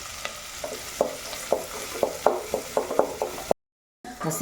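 Onion and capsicum frying in a pan, a soft sizzle under repeated clicking scrapes of a spatula in a steady rhythm, close by, then a brief gap of silence.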